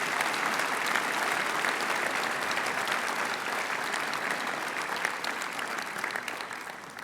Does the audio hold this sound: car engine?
no